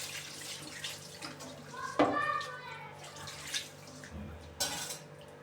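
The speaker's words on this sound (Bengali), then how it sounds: "এখন আমি পানি দিয়ে দেব।" Water poured into a cooking pot for a fish curry with potato and onion, a brief splashing pour in the middle followed by faint clinks and drips, with quiet kitchen background.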